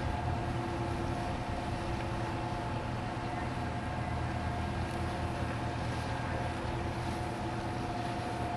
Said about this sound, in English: Here's a nice little boat getting ready to come through.